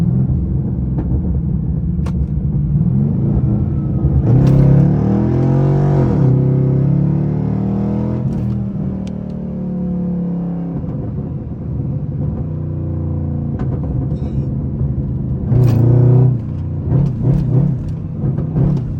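A Pontiac G8 GT with a straight-piped exhaust roars and downshifts, its loud, throaty engine rising and falling through several rev blips over a steady driving rumble.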